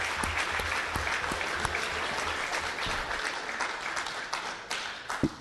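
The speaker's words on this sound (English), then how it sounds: "Can we give him a round of applause, really?" A crowd at a city council meeting applauds a veteran with a sustained round of clapping that carries on throughout, thinning slightly near the end.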